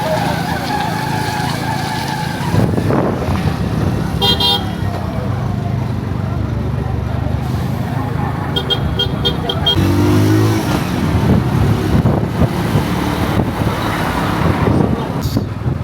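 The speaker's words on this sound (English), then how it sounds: "So you realize how busy the roundabout is." Busy roundabout traffic in Uganda, with trucks rumbling, cars passing and occasional horn toots, forms a dense, loud, continuous wash of road noise with indistinct voices mixed in.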